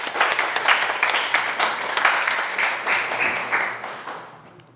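A lecture audience at a special talk breaks into applause, a burst of clapping that starts strong and gradually tapers off over a few seconds.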